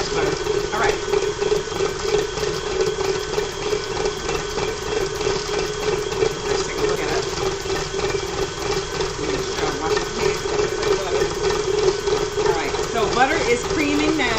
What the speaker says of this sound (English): Butter is creaming now.